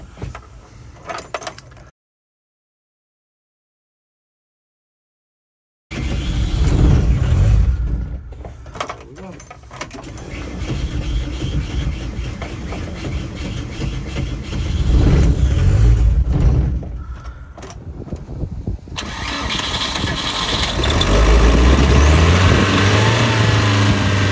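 VW Vanagon Doka truck in neutral, its engine revved in rising and falling surges after a brief silence, loud and close, with voices talking over it and clunks like a door.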